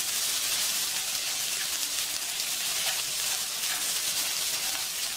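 Onion sautéing in bacon fat in a pan gives a steady, close hiss of sizzling that holds evenly without breaks.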